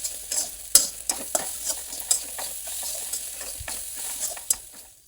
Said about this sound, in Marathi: कोथिंबीर टाकायची मग पाच मिनटं परतून घ्यायचं